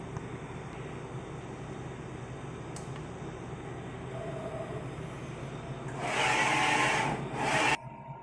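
A DTF printer runs a nozzle test after a normal cleaning cycle, giving a steady mechanical hum with a louder whirring burst of printhead carriage motion near the end.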